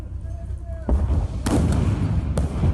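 Gunfire and rocket-propelled grenade blasts ring out as Ukrainian ground forces engage Russian troops among city tower blocks: a few sharp, heavy bangs over a rumbling background.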